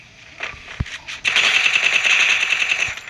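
Free Fire battle royale gunshots: one sharp shot, then a loud, dense rapid burst of automatic fire held for nearly two seconds, close and prominent.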